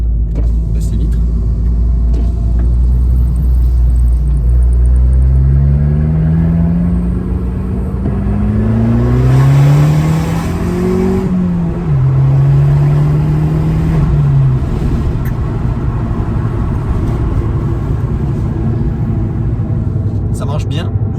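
Abarth 595 Competizione with a 180 hp engine, driven with the windows lowered: a steady low engine rumble runs throughout, with a rising then falling rev sweep midway and someone talking over it.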